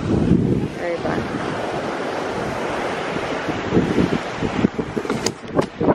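Ocean surf washing onto a beach under a cliff, a steady loud roar of breaking waves with heavy wind buffeting the microphone and a few splashy bursts near the end.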